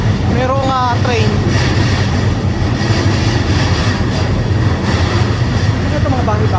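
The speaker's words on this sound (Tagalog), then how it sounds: "Merong train." Train noise plays steadily throughout, a continuous rumbling mix that is fairly loud, with voices talking over it. The setting is a station or market area in Japan.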